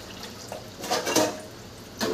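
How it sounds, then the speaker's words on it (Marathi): Dishes are washed by hand under a running tap in a home kitchen in the evening, with soft clinks and knocks of pots and utensils over splashing water. No one speaks. "तर आता भांडी घासते मी"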